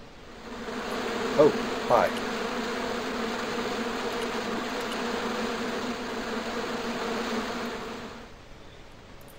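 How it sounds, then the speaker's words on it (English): Angry insect-like buzzing from a bush in the adventure game Broken Sword II, a steady droning hum held for several seconds with a couple of brief louder blips and a short spoken greeting early on. "here was a bush that was buzzing"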